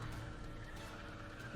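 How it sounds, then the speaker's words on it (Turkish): A car in the racing game Need for Speed The Run drives with a continuous, steady engine hum and a sustained tire squeal. Heard close and alone, with no talking. "Oğlum arabanın sesi niye elektrikli gibi ses geliyor ya?"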